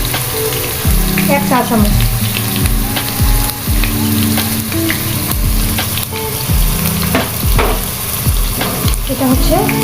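Poppy seed paste sizzling in a pan while making hilsa pulao, a loud hissing fry with stirring scrapes and clatter, a voice speaking briefly over it.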